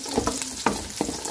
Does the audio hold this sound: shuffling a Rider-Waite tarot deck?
no